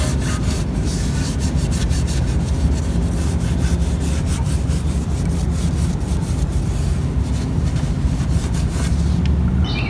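A 2002-2006 Toyota Camry oil pan, scraped of extreme sludge, is scrubbed with degreaser: a loud, close, continuous rasping rub that runs unbroken the whole time with no talking.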